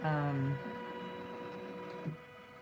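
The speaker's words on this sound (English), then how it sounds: "it's gonna sew a placement stitch." A Janome Continental 17 embroidery machine sews a placement stitch on a large 12x19 hoop, giving a faint, steady mechanical whir with a brief higher tone at the start and a small bump near the end.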